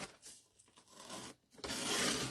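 Cardstock for a handmade card is trimmed down to size, producing a rough scraping rip that pauses briefly and then surges into a louder, sustained rasping slide, close and with no talk.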